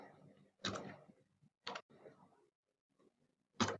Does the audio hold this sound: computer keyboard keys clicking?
yes